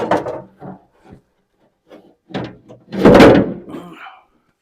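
Car window glass being lowered into the rear door of a restored vehicle, a few scattered knocks and thumps, ending in a louder wooden-sounding clunk and a rubbing scrape.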